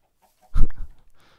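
A chicken clucking in the Minecraft video game, one short, loud burst of clucks close up that fades quickly into quiet.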